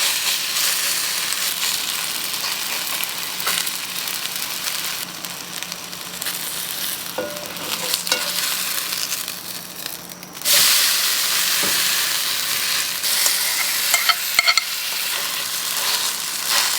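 Pancake batter fries in a nonstick pan, giving a loud, steady close sizzle and hiss throughout, with stirring scrapes and a sharp jump in sizzle partway through as more batter is pressed flat.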